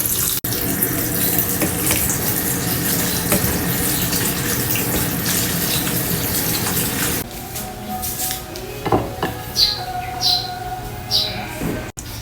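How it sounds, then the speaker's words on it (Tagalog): Tap water pours steadily over cooked macaroni to cool it for a macaroni salad, a loud, close rush that stops after about seven seconds, leaving light clatter and birds chirping in the background. "Pato nang gipagasan og tubig guys kay para mabugnaw siya"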